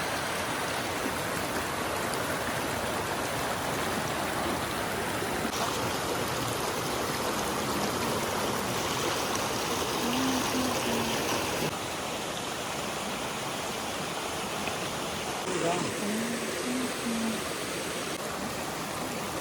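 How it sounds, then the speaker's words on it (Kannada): A forest stream on the walking path to Didupe waterfalls near Dharmasthala gives a loud, constant rushing of water. The wash stays close and unbroken throughout, with no talk. "ಫಾಲ್ಸ್ ಹೋಗೋ ದಾರಿಗೆ ನೋಡಿ, ಇಷ್ಟು ಬ್ಯೂಟಿಫುಲ್ ಆದ ಸ್ಟ್ರೀಮ್ ಕಾಣಿಸ್ತಾ ಇದೆ."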